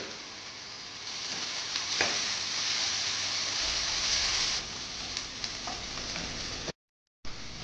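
Chopped onion with a pinch of salt frying in a pan for spicy pav bhaji, a steady loud sizzle with a few spatula scrapes, then a brief cut to silence before the frying resumes.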